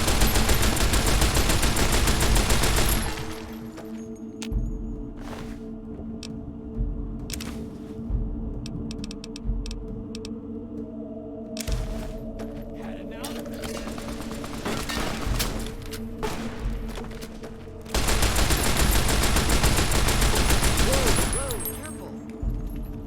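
Rapid bursts of 12.7 submachine gun fire in Fallout: New Vegas, loud fusillades at the start and end with scattered shots and a firefight in between, while a voice talks over part of it.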